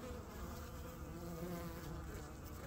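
Honey bees buzz steadily around a backyard hive, a dense, continuous insect drone close by with no talking, some of the bees returning laden with pollen.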